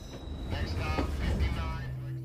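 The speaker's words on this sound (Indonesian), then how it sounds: "Setelah lolos dari tabrakan kereta, Jonas segera masuk ke dalam kereta" Train rumbling and rattling along on the tracks during a film scene, a steady mid-level roll with brief voice-like sounds layered over it.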